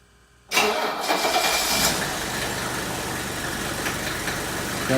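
A 1983 Mercedes 300D diesel cold-starts in a garage on a very cold day, firing after half a second of silence and settling at once into a loud, steady clattering idle.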